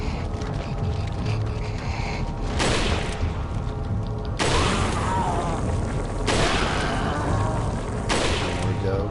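Gunfire in Resident Evil 4 aimed at a Plaga: a few sharp, loud bursts spaced several seconds apart over a busy game soundscape, with a voice talking underneath.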